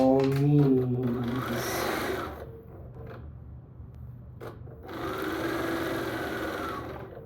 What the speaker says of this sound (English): we're going to sew these two together, alternating and nesting those seams